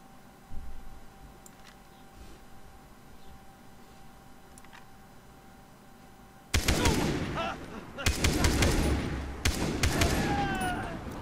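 Quiet ambience, then from the middle onward bursts of rapid gunfire in the video game Far Cry 3 crackle loudly in several clustered volleys, close and sharp.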